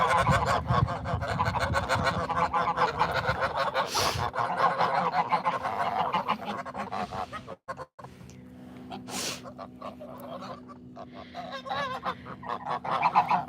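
Geese on a farm honk repeatedly and loudly nearby, a busy overlapping chorus with a brief lull partway through before the calls resume.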